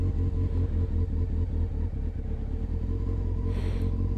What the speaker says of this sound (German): ihr seht, das Motorrad rollt und ich ziehe wieder